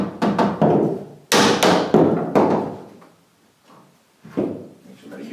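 A hammer taps an interior door into place during installation: several sharp knocks in quick groups, close and fairly loud, with short pauses and a few quieter taps between.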